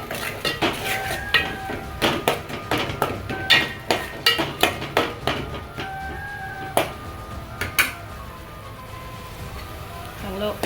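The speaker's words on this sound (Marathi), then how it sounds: "आणि मस्त त्याला मिक्स करून घ्यायचं." Vada pav potato filling mixed with a utensil in a pan, giving a run of sharp metallic scrapes and clinks in an uneven rhythm, close and fairly loud throughout.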